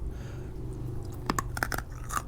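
Close-up crunchy chewing of vegetarian meat in spicy tofu stew, a few sharp bites and crunches after a quiet start, with a low background hum.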